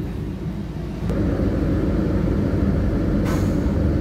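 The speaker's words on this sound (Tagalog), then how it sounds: "Daming malalaking truck dito." Large trucks idle and rumble at a ship pier in Cebu, a steady loud low drone with a brief hiss of air release near the end.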